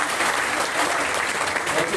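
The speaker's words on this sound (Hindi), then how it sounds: "जबरदस्त तालियां" An audience claps together at a gathering in Ayodhya, steady dense applause filling the space throughout, close and fairly loud, with no pauses.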